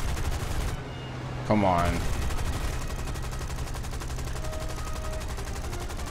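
Aircraft machine guns fire in a combat flight video game, a short dense burst of rapid shots over a steady engine drone, followed by lingering roar; someone talks briefly.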